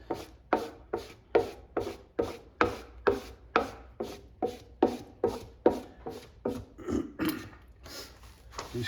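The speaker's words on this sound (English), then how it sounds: "The heat from your hand and rubbing on it, it really gets it to stick down." A hand firmly rubbing vinyl overlay down onto a Pac-Man arcade control panel, close, rhythmic swishing strokes repeating about twice a second, each with a sharp onset, carried on alone.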